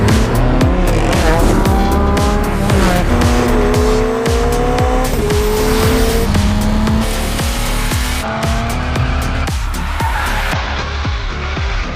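A BMW driven hard in The Crew Motorfest racing game, its engine roaring loud and steady as it revs up through gear after gear, with tire squeal mixed in.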